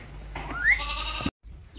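A single Țurcană sheep gives one close, wavering bleat lasting under a second against a low background rumble, followed by a brief cutoff and quieter ambience.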